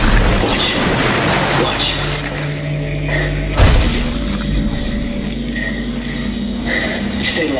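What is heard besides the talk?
blades shot back with kinesis in Dead Space 3 video game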